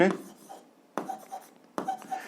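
A pen writes an equation on paper in three short scratchy bursts, close and fairly quiet, while a teacher talks over it.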